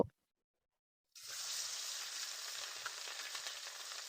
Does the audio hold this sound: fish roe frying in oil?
yes